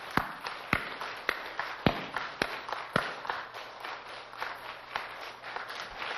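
A lecture audience claps together in a steady offbeat rhythm, with sharp, evenly spaced claps about twice a second that sound fairly close and lively.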